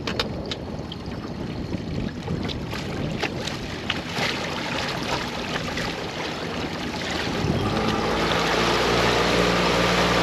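A small boat's engine runs steadily as it sets off across the water, a continuous droning hum with wind buffeting the microphone, growing slightly louder toward the end; no one speaks.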